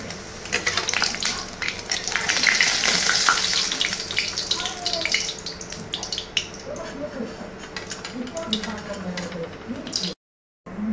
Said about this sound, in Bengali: খালি পাঁপড় কয়েকটা ভেজে নেব